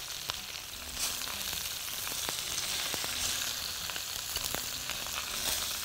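Tomato slices sizzle on an olive-oiled grill, a faint continuous crackling hiss with scattered small pops and ticks throughout, with no voices.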